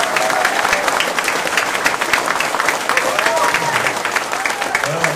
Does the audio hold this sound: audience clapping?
yes